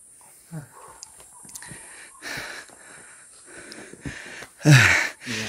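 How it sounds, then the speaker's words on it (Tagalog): Heavy, ragged breathing from a hiker climbing Jabal Shada in Al Baha, close to the mic, with irregular gasps and puffs that end in one loud, rough exhale. "Naririnig yung hingal ko, no?"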